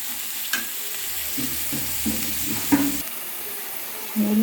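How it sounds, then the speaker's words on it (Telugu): Onion pieces with a little salt fry in a pan, giving a low, steady sizzle broken by a few faint scrapes and stirring knocks. "ఇందులో ఉల్లిపాయ ముక్కలను వేసుకుని బాగా ఎర్రగా వేయించుకోవాలి"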